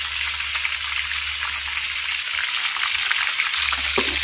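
One fish fries in a pan with a steady, close crackling sizzle and spattering pops over a low hum.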